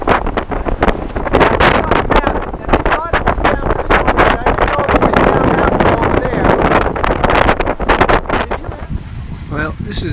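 Strong wind buffets the microphone throughout a short ferry crossing to a Hong Kong beach, a loud continuous gusty roar with boat and water noise underneath and a voice speaking through it.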